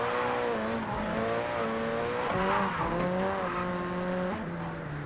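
In the video game JDM: Japanese Drift Master, a car engine drones steadily while tires squeal in long, sliding tones that bend up and down, a continuous skidding drift heard close and loud.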